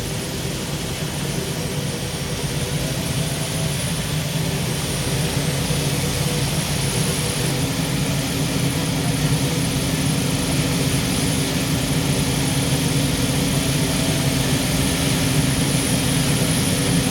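Tractor pull engines at an evening tractor pull in Brechin fire up one after another, building a loud, steady, roaring drone that fills the scene without a break.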